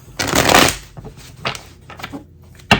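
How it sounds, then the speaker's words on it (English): A deck of tarot cards is shuffled close up in a few quick riffling bursts, one long rustling run followed by shorter flicks and a final snap. "You're going to shuffle until I say stop."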